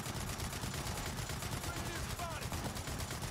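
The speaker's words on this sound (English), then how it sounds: "Yeah, just fire this shit away." Sustained gunfire in the Gears of War 4 video game, dense and continuous in a co-op fight, with rapid bursts layered over a constant loud rumble and a few faint chirps.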